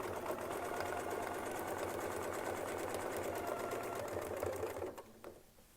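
A sewing machine stitches steadily with a Westalee Spin E Fex 14 series ruler, its even mechanical whir running continuously for about five seconds before winding down and stopping near the end.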